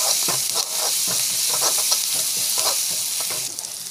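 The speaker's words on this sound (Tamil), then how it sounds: "முந்திரி ஆட் பண்ணி முந்திரி போட்டு நல்லா வந்து வதக்கிக்கலாம்" Cashews and ginger garlic paste sautéing in a pan, a steady close sizzle with irregular scraping stir strokes throughout, no talk.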